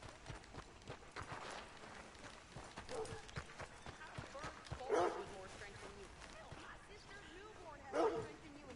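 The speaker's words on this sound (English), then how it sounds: "Is that a dog?" A dog in Red Dead Redemption 2 barks a couple of times, sharp and fairly close, over ongoing dialogue and background game sounds.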